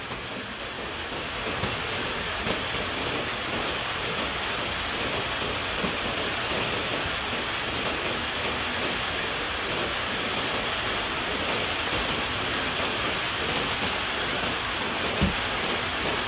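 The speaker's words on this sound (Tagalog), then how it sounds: "Wow, ulan sa amin." Rain falls steadily outdoors as a dense, even hiss of broadband noise lasting throughout, with a few faint taps and no voices.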